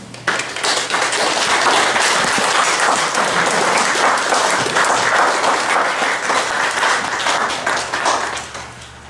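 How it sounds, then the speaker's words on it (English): A church congregation at a Lutheran Sunday service claps for its Sunday school teachers, a full, steady round of applause lasting several seconds before tapering off abruptly. "Let us welcome them in the name of Christ with a big Dekorra applause"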